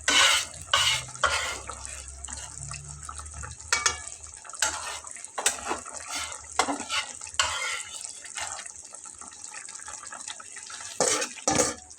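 Fried garlic bits go into a frying pan and get stirred, giving repeated scraping and clattering bursts over a continuous sizzling hiss, close and fairly loud.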